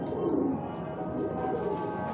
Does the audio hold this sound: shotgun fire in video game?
no